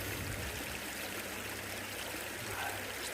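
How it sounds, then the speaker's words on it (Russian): A babbling stream on a river trip in Missouri runs steadily, a continuous close gurgling wash of water with no voices over it. "Вот журчание воды вот, и всего остального."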